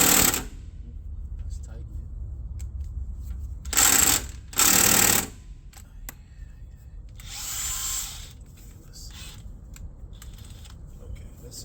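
An impact gun tightens a brake caliper bolt during a brake and rotor change, rattling in two short, loud bursts with a softer burst later, between quieter stretches of workshop noise.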